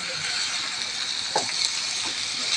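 Bottle gourd pieces are turned over while frying in a pan for a sing fish curry, producing a steady bright sizzle with a few soft stirring scrapes, close and continuous.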